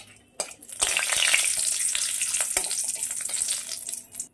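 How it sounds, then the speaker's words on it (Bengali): Dry red chilli, a bay leaf and a bit of cinnamon hit hot oil for a Bengali niramish aloo dum tempering, bursting into a loud, steady, crackling sizzle after a sharp pop. "ফোড়নের জন্য আমি নিয়ে নিয়েছি, দিয়ে দিলাম একটা শুকনো লঙ্কা, দিয়ে দিচ্ছি একটা তেজপাতা"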